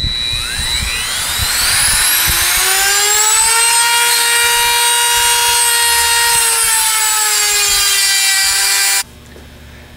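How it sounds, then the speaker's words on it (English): Dremel rotary tool cutting through the outer race of a steel bearing, a loud close high-pitched whine that climbs in pitch as it spins up, holds steady for several seconds, then stops abruptly. "We're going to turn it to the other side and cut the other outside half of the race."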